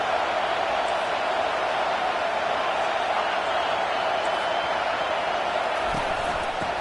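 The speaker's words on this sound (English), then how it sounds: "Decibels rising as the crowd gets behind this defense on third down." Stadium crowd in a Madden football game on third down, a dense, steady roar that holds at a constant loud level throughout.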